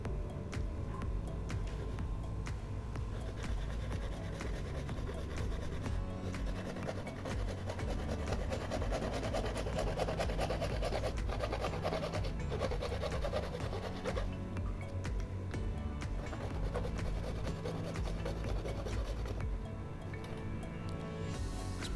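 A PVC pipe's top side is cut with steady, continuous rasping strokes, close and even, running for the whole stretch with no talking.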